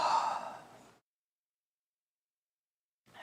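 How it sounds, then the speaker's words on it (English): A breathy yawn or sigh taken during a guided relaxation stretch, a single close exhale lasting about a second, then silence, with the start of another breath at the very end. "Let's take one more yawn here."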